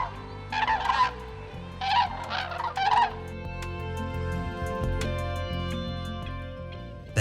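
Cranes give loud, rolling, bugling calls in two or three bursts, close and clear, followed by a steadier stretch of lower-pitched background sound.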